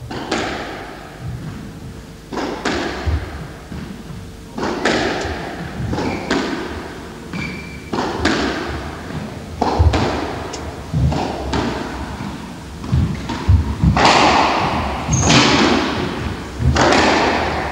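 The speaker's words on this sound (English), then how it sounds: "And acknowledges the width of John's volley there" Squash ball struck in a 1981 Norfolk semi-final rally, hollow thuds and wall knocks coming at irregular intervals over crowd ambience in an echoing court, with no talk over them.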